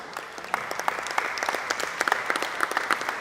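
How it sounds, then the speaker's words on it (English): A small audience at a volleyball academy program launch in Trinidad and Tobago claps for a young woman, a sparse crackle of individual hand claps with distinct sharp hits throughout, moderately close and without talk. "Give her a clap again."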